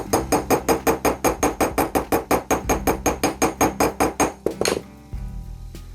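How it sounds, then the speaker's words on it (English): Rapid, steady hammer strikes on jewelry wire resting on a hard surface, about two dozen close, ringing metallic taps in an even rhythm before stopping. "I'm going to proceed and hammer this"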